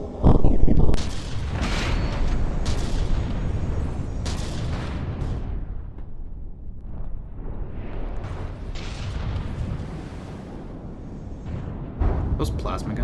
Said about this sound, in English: Those plasma guns.